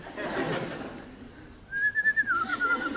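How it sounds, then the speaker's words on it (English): A person whistles a short, clear rising-and-falling tune against a quiet room, preceded by soft murmuring in the background. "No whistling."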